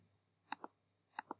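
A computer mouse clicked twice in quick double clicks, sharp and close, with about half a second between the two pairs against a faint hum.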